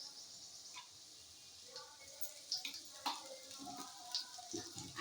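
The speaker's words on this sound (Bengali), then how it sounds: "আদা রসুন বাটাটা দিয়ে পেঁয়াজের সঙ্গে হালকা একটু ভেজে নেবো" Onions sizzling in a pan as ginger-garlic paste goes in, a steady soft frying hiss with scattered crackles and pops, close and fairly quiet, no voices.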